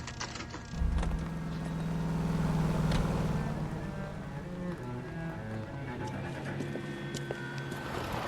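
A car pulls out of a driveway in a detective video game, its engine rumbling up loudly at first and then holding a steady drone under scattered background noise.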